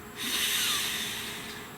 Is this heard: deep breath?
yes